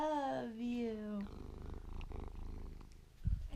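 A contented house cat purrs close to the microphone in a steady, low, pulsing rumble that follows a brief high, tonal vocal sound at the start.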